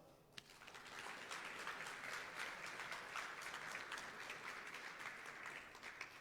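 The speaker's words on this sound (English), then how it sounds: "give our dear finalists a thunderous round of applause" Sustained applause from the audience greets the finalists at the Study UK Alumni Awards ceremony, a dense, steady crowd clapping that holds at an even level throughout.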